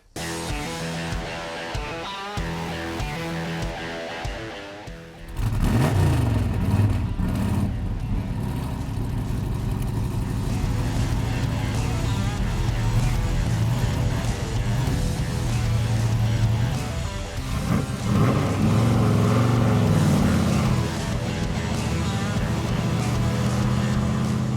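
A powerful Baldwin Motion Maco Shark Corvette engine roars loudly and steadily as it drives, rising and falling with acceleration, after a quieter idle at the start.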